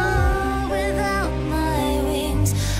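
A stretch of a 2003 ballad plays as a soft, sustained mix of melodic and harmonic tones, continuous and fairly full, with no talk over it.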